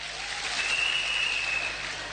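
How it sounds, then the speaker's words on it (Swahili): Audience applause at an Azimio political rally in Mombasa: steady, dense clapping that runs unbroken through the whole moment at an even loudness, with a thin high tone riding above it. "Tuwapigie makofi."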